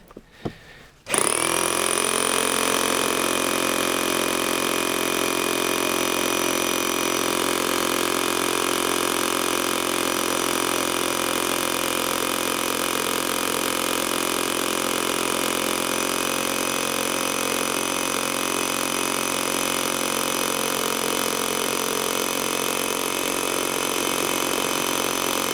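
A 1500W Graphite SDS Plus rotary hammer drills a hole. After a brief quiet start, its motor runs in a loud, steady, continuous whirring drone with no talk over it.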